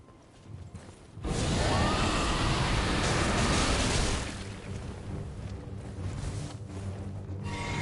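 A horse gallops in the video game Elden Ring: a dense, rushing broadband patter swells in near and loud after a second, holds steadily, then eases to a softer continuous rumble for the rest.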